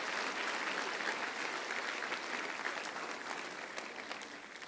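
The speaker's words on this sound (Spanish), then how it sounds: "dale un aplauso fuerte al Señor en esta hora." Congregation applause in a church: continuous, evenly spread clapping from many hands, heard at a distance and fairly quiet, slowly easing off.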